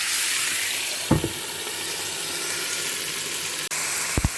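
Meat for goulash soup sizzles steadily in a pan over high heat, with a couple of brief clinks of a utensil against it.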